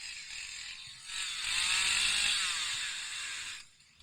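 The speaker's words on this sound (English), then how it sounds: "We're trying to watch chainsaw videos" A chainsaw runs steadily in a chainsaw video, its buzzing drone swelling louder for a couple of seconds and then dropping away abruptly, heard alone without speech.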